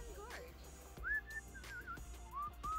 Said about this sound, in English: Who is whistling like Martin?